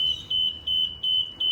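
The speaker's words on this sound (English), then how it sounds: "you'll hear some beeps as that computer is initializing" A Jibbi lift controller ECU gives repeated startup beeps, a steady high electronic tone pulsing in short regular bursts about every third of a second, clear and close with no talk.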